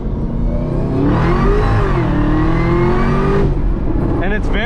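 A Chevrolet Camaro ZL1 with a custom intake accelerates hard, its engine note rising loudly and steadily through the revs from inside the car, then dropping off, with voices talking over it.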